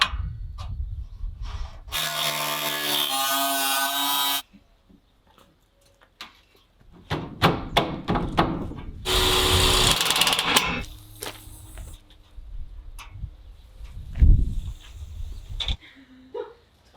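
Bottom wall-framing tracks being cut for an off-grid solar home, two loud harsh bursts of power cutting a couple of seconds each, separated by quiet pauses and scattered knocks and handling clatter.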